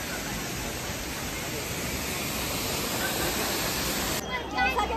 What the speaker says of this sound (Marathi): या ठिकाणी कशा पद्धतीने हा धबधबा सुंदररित्या कोसळतोय